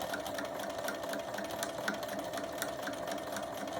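A sewing machine stitches a round fabric mug rug, running steadily and close with a fast continuous mechanical whir and faint needle ticks throughout, with no talking.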